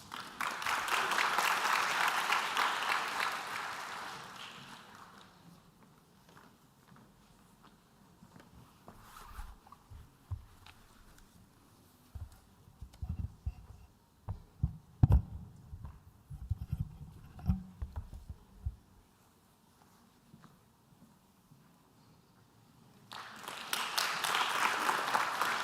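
An audience at an international world harmony conference applauds as the next speaker is welcomed: a full, steady round of clapping for about five seconds, a quieter stretch of scattered knocks and rustles, then a second burst of applause near the end.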